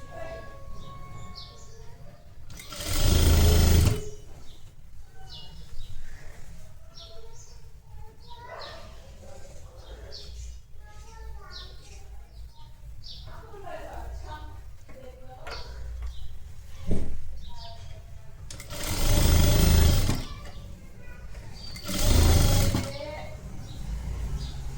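A sewing machine stitches the waist round of a royal blue lehenga saree in a few short, loud bursts, with someone talking quietly between the runs.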